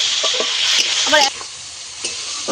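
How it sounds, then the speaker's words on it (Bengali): Prawns coated in salt and turmeric fry with spice tempering in a pan, making a loud, bright, continuous sizzle with a few stirring scrapes and clinks. "ফোড়নের সঙ্গে চিংড়ি মাছটা আমি ঠিক এইভাবে ভেজে নিয়েছি"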